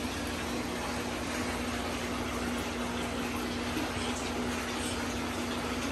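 Water flow turned up in an aquarium in a fish room stocked with large fish, a steady even rush of water with a faint pump hum underneath, continuous and close.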